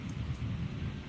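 Low, continuous rumble of thunder rolling through a storm, with wind and rain noise, heard from under an open shelter without side panels.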